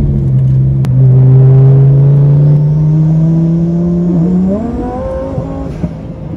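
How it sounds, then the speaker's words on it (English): A supercharged Dodge Hellcat engine revs close by, a loud sustained drone that holds steady, then climbs in pitch before easing off, with the supercharger whine riding above. "I love my supercharger noises in the Hellcat"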